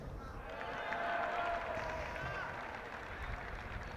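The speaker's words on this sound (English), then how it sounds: "applause of relief you can hear there from Bede's parents" A small group of parents applauds from the sidelines of a schools' football final at Stoke City's stadium, a soft, distant patter of clapping over open-air crowd noise.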